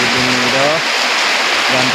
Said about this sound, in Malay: Alhamdulillah hujan lebat dah. Hujan mula membasahi bumi dah.